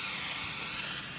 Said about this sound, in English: I'm going to spray it with the butter spray.